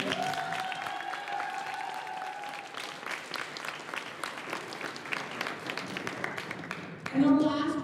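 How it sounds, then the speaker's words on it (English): Audience applause at a school records awards ceremony, a steady wash of clapping that holds for several seconds and swells louder near the end, with a brief voice over it at the start. "One more time, round of applause for Amelia"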